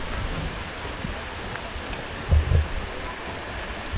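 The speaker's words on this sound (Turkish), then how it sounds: "Yağmur yağıyor" Steady rain falls at Kolsai Lake in Kazakhstan, a soft, even hiss with a couple of low thumps near the middle and no voices.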